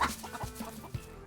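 Chickens at a 9,000-bird poultry farm cluck in short close bursts, several soft calls overlapping in a brief flurry, with no voices.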